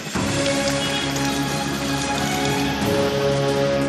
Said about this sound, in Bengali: পশ্চিমের জেলায় বৃষ্টি পুরুলিয়া বাঁকুড়ায় বৃষ্টি